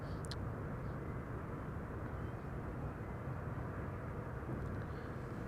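Atlas Air cargo plane arriving at Amsterdam Schiphol Airport, a faint, steady distant jet rumble under broad wind-like noise, with no clear rise or pass.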